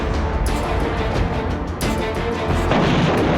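A missile strike exploding near a Lebanese journalist's home, heavy booming bursts and crashing noise close by, with a second blast partway through and no talk.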